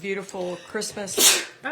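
A single sharp sneeze bursts out between bits of a woman's chatter during a live Christmas tea shop broadcast, with talking heard just before and after it.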